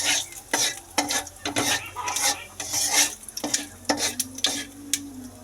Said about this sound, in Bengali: এখন শুধু জিরে ফোড়নটা দিলেই হবে।